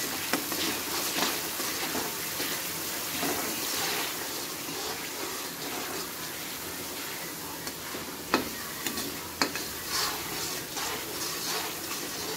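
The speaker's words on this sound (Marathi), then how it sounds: "थोडंसं लसूण अद्रकची पेस्ट पण तेलामध्ये टाकून घेते. छान मिक्स करून घेते." Ginger garlic paste sizzles in hot oil in a pan, a loud, steady crackling fry with a few sharp clinks of a spoon stirring it around near the end, no talking.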